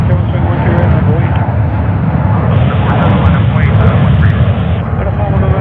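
A jet airliner takes off from JFK Airport in New York, a loud, steady engine roar that fills the whole stretch with no break, with faint voice chatter underneath.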